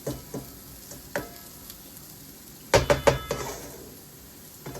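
Vegetables for vegan sloppy joes toasting in a pan, a soft sizzle running under scattered knocks and scrapes of a utensil, with a louder burst of clatter midway.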